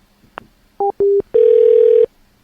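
A telephone receiver is hung up with a short clunk, followed by a few brief electronic tones and then a loud, steady dial tone that holds for under a second before cutting off.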